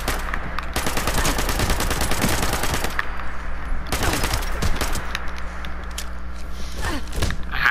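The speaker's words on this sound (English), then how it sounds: "Keep forgetting I'm on the fully automatic gun." A fully automatic gun fires in long, rapid bursts, the loud rattling volleys breaking off briefly before resuming, close and dominant, with faint background sounds between bursts.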